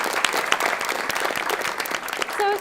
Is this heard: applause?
yes